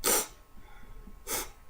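Two short bursts of sniffling breath, separated by about a second of quiet, as a person imitates crying with their head bowed.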